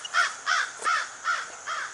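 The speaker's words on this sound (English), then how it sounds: "And then of course the crows." Crows caw five times in a steady rhythm in a cemetery, harsh calls spaced evenly apart, moderately loud with no talking.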